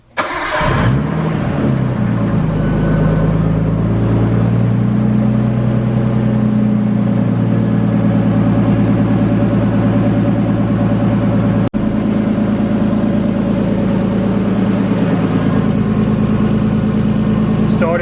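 A Nissan R32 Skyline fitted with a Greddy front-mount intercooler cranks and fires up, then settles into a loud, steady idle with a deep rumble and a brief blip partway through.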